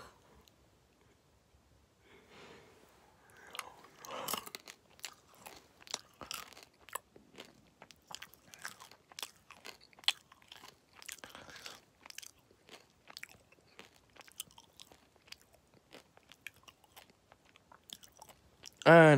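Someone bites and chews special Easter chocolate up close, with crisp intermittent crunches and chewing over many seconds, plus soft breaths through the nose between bites.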